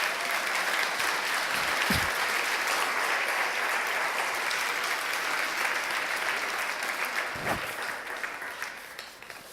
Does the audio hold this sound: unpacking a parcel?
no